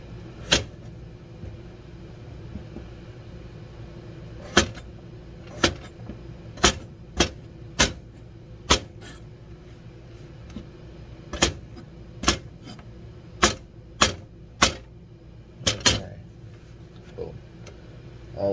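A knife slicing food, heard as about a dozen sharp, distinct cuts at uneven intervals, fairly close, over a quiet background.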